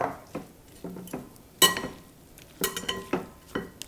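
Spinach, leeks, scallions and herbs being stirred in a pan, with a series of sharp scraping and clinking strokes in an irregular rhythm over a quiet background, close and fairly loud, with no voices.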